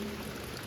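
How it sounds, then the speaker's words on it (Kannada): Steady rain falling in the Malnad hills around Sakleshpura, a continuous even wash of drops heard close and alone, with no talking, for under a second. "ಮೂರೊತ್ತು ಬಿಟ್ಟು ಬಿಡದೆ ಬರೋ ಮಳೆ"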